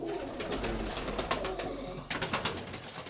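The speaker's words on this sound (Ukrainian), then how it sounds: "Сивобокий старый голубь" An old grey-sided pigeon coos softly in repeated low throaty calls, close by against a faint background hum, with no talk.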